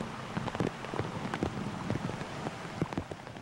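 Steady rain pours down during a drenching storm that flooded roads and basements near the Licking River, a dense, even patter with scattered sharper drops spattering close by.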